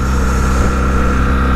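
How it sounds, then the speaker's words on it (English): A BMW R 1200 GS Rallye motorcycle engine runs on a hilltop road near the Cat and Fiddle, a steady, loud, close drone mixed with heavy wind rush and no talking. "But yeah, the engine's just absolutely spectacular on these GSs."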